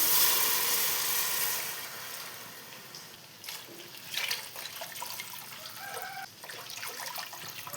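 Water pours steadily into a cooking pot of biryani for a few seconds, then gives way to quieter trickles and light clinks and splashes.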